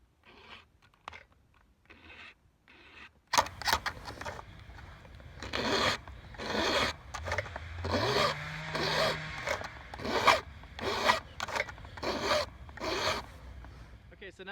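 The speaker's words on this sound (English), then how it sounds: "I'm going to take my flat file and I'm just going to take one nice little swipe across the top of the rake." A flat file rasps across the rakers of a new chainsaw chain in a series of short, close scraping strokes, with a few faint taps before the strokes begin and a low hum in the background.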